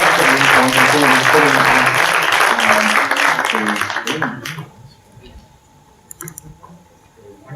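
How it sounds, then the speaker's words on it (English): Loud audience round of applause at a live science-themed gaming show, dense clapping for about four seconds before fading out, followed by quieter room noise and a few scattered claps. "Round of applause, Oliver!"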